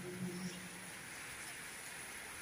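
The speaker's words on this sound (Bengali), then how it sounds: "তামাম বৃষ্টি নামছে" Steady rain pours down outdoors as a continuous, even wash of hiss with no breaks, heard from fairly close and fully surrounding.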